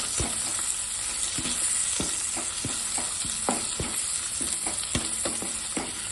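Okra sautéed with green chillies in a pan gives a steady, close sizzle of frying, with frequent light taps and scrapes of stirring throughout and no talking.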